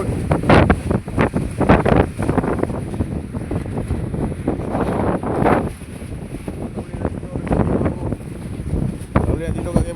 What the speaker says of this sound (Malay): angin dia kuat